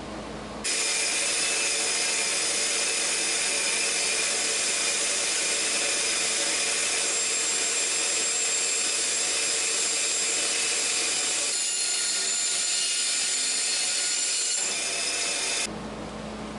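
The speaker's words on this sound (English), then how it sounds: "now we can fire up the bandsaw and to proceed to cut some scales" A bandsaw cuts a block of wood into knife-handle scales, a loud, steady, continuous whine and rasp that starts abruptly, runs for about fifteen seconds with a slight change near the end, then cuts off.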